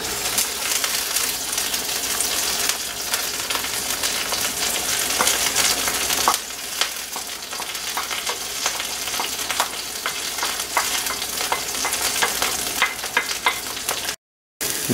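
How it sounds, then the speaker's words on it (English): Garlic and dry vegetables fry in oil in a pan, a close, dense, continuous sizzle with occasional crackles and stirring scrapes, briefly cutting out near the end. "There's garlic browning on the pan."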